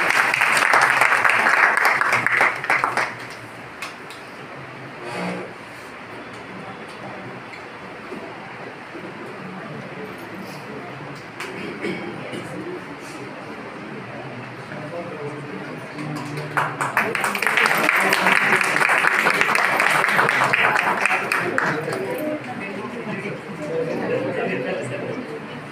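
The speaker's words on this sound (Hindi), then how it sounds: "माला बना करके स्वागत करें और ताली के साथ" At a ceremony honouring education department teachers in Siddharthnagar, the audience breaks into loud, dense applause twice, once at the start and again later, with quieter chatter and murmuring in between.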